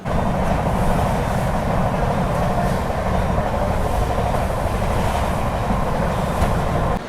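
A passenger train at Jalgaon Junction gives a loud, steady rolling rumble of wagons on the rails, heard close and continuous without talk, easing slightly at the very end.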